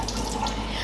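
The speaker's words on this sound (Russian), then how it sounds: "давайте я солью воду" Water pours steadily from a pot of boiled cooking water into a sink while shrimp pasta is being made, a short continuous splashing rush.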